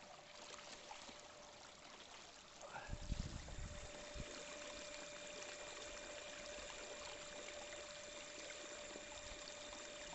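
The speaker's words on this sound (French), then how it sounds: "Test du moteur monté sur le Lynx." An electric motor mounted on a Hobie Lynx pedal kayak runs on the water, giving a steady, faint whine over continuous trickling and lapping water, with a brief splashy burst partway through.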